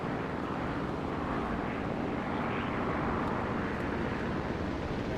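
Steady drone of a Ki-44-II hei fighter's engine in the War Thunder flight game, a continuous, fairly loud, even roar with no break as the plane climbs back to altitude and rolls over.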